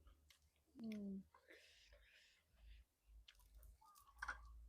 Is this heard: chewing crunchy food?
yes